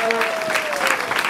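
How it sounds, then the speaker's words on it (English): Church congregation clapping hands at a prophetic worship service, a dense steady patter of many claps filling the room under a sustained tone, with voices mixed in. "clap hands for"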